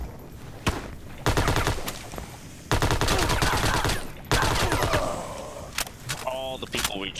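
Gunfire in the survival video game Farworld Pioneers comes in repeated dense bursts of rapid shots with brief pauses between them, loud and close, with a player's voice talking over parts of it.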